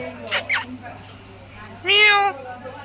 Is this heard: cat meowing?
yes